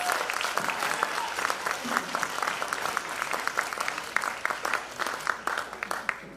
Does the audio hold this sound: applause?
yes